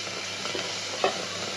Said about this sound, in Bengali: চিংড়ি মাছ দিয়ে দিলাম চিংড়ি একটু ভাজতে লই